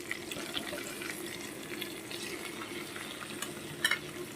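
Slit green chillies, ginger paste, turmeric, coriander and Kashmiri chilli powder fry in a pan, making a steady, moderate crackling sizzle. Faint scraping stirs run throughout, with a brief sharper clatter near the end.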